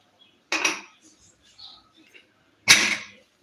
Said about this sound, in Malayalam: സാമ്പാർ ഇനി നമുക്ക് അടച്ച് വയ്ക്കാം